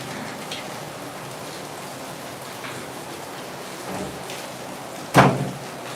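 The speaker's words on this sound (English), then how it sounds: "now all of a sudden it starts pouring down." Sudden heavy rain hisses throughout in the Philippines, even and continuous, with a single sharp thud near the end.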